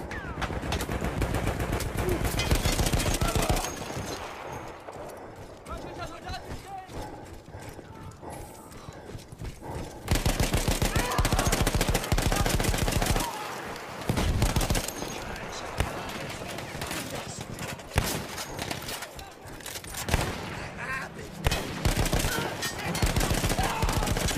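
Loud machine gun fire from the World War I shooter Battlefield 1, rattling in dense, sustained bursts with a few brief lulls and sharp restarts.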